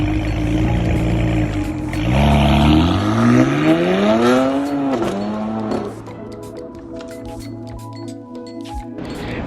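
A BMW 335 engine revs up, holds, then launches, with swooping harmonic sweeps as RPMs climb and dip, loud and close, settling into a lower drone before fading.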